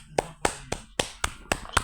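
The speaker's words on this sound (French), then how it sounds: "On applaudit." A few people clapping at the close of a gaming session, about seven sharp, evenly spaced claps in under two seconds, fairly quiet and close with no voices over them.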